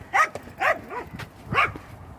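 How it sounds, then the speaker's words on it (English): Dogs bark near a canal on an outdoor walk: several short, separate yelping barks over about two seconds, fairly close, with no one talking. "So there are a lot of dogs around here, as you can see today."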